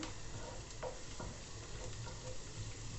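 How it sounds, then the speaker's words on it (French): Crushed garlic fries in about half a glass of hot oil while being stirred, producing a low, steady sizzle with a couple of faint scraping strokes and no voices. "je laisse bien chauffer l'huile et j'y ajoute les ails. Il faudra bien mélanger"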